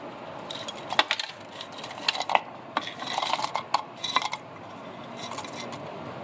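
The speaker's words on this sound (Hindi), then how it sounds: "अब इसके अंदर हम बर्फ़ डालेंगे।" Ice cubes tumbling into a chikoo milkshake, a scatter of light clinks and knocks, close and fairly soft, spread unevenly over several seconds.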